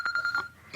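A telephone rings indoors in a short burst of bright electronic trills, fairly close and clear, cutting off quickly.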